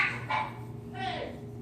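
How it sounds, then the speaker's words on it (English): Dogs barking and scuffling outdoors, heard from indoors as a few short yelping bursts mixed with talk over a steady background hum. "I hear my dogs out there like fighting"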